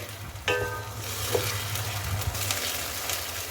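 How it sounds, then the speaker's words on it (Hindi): Ginger garlic paste fries with onion and tomato in a pan, giving a steady close sizzle with a few faint stirring clicks over a low background hum. "साथ में हम इसमें ऐड कर देंगे 1 टेबल स्पून अदरक लहसुन का पेस्ट, इसे भी हम प्याज टमाटर के साथ भून लेंगे।"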